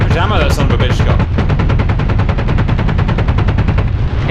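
Apache AH-64D helicopter cannon firing in the DCS flight simulator, one long sustained burst of rapid, evenly spaced heavy rounds, loud and close, with a voice briefly over the start.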